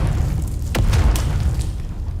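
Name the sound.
grenade explosion in Dune Awakening video game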